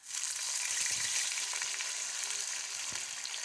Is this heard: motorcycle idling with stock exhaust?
no